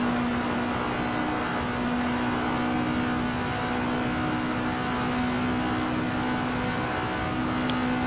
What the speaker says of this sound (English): keep it full throttle